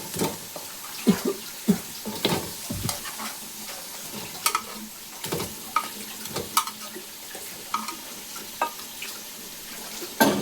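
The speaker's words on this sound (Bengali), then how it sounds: "মাংসগুলো দিয়ে ভালো করে কষিয়ে নিচ্ছি।" Chicken pieces for a chicken biryani sizzle in spiced masala as they are stirred, with repeated sharp scraping strokes of the spoon against the pan over a steady frying hiss, close and fairly loud, no talking.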